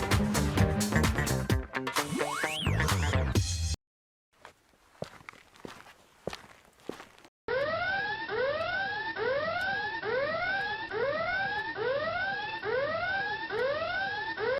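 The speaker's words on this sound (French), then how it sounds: "Audrey, pourquoi as-tu déclenché l'alarme des secrets?" An electronic alarm in The Sims 4 wails in repeated rising sweeps, loud and continuous, after a burst of music and a few footstep-like taps in near silence.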